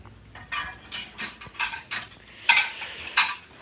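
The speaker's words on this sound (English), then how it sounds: "I was just doing some dishes up" Dishes being washed at a kitchen sink, with a quick irregular series of clinks and scrapes from cutlery and pans, close and fairly loud, with no talking.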